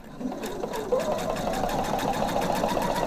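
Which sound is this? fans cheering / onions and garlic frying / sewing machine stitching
sewing machine stitching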